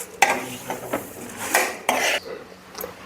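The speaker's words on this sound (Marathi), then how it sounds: "आता मी दुसऱ्या पिलटीत हे ओतून घेणार." Roasted black sesame seeds are poured from a pan onto another plate, with close metallic scrapes and clinks of the utensil against the pan and a light rushing slide of seeds in short bursts.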